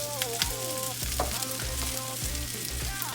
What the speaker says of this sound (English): throw in some spinach as well